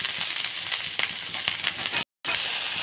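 Vegetables including onion and potato sautéing in a pan, giving a steady bright sizzle and crackle with occasional stirring clicks, broken by a brief silent gap near the end.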